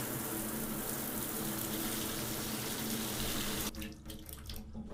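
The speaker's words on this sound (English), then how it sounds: "Shower." A shower runs in a first-person survival horror game, a loud continuous hiss of spraying water that cuts off abruptly near the end, leaving quieter room ambience.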